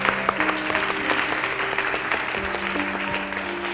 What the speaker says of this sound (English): We can clap for Step Up Ventura